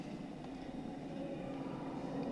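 Bakerloo line train idling at a station platform in Train Sim World 2, a faint steady low hum and hiss of the waiting train, with no talk.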